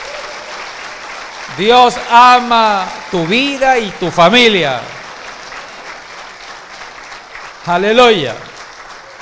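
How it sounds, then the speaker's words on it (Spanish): A church congregation claps during a Spanish-language worship service, a steady wash of applause running beneath a preacher's loud, excited shouting. "Dale una ofrenda de aplauso al Señor."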